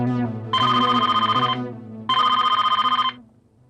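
A telephone rings in two long electronic trills, each about a second, with a pause between them, loud and close over a low background hum.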